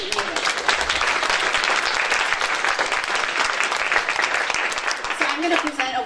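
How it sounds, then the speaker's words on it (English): Audience applause for the finalists at the 2019 Skagit Regional Spelling Bee: a dense, steady wash of clapping from a large crowd, sustained at even loudness for about six seconds with no pauses. "can we just give these guys a round of applause?"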